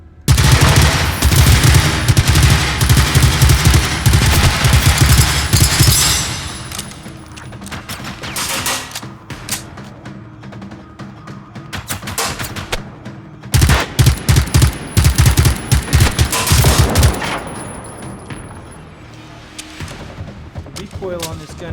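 Machine gun bursts in the video game Generation Zero, loud dense rattling volleys that stop and restart, with a quieter stretch of scattered shots before another heavy run of fire.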